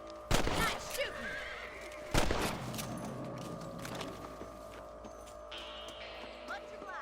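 Horses whinny in Red Dead Redemption: two loud neighs, one near the start and one a couple of seconds later, set against quiet game ambience and faint hoofbeats.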